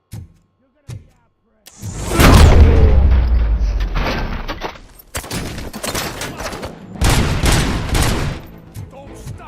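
Gunfire in a RoboCop: Rogue City firefight, with a loud booming blast followed by bursts of rapid shots and impacts, close and intense, with a voice briefly heard.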